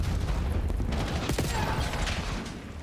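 Assault rifle fire in a Call of Duty match sounds as a dense, continuous crackle of rapid shots and mechanical clatter, steady and loud before easing off slightly at the end.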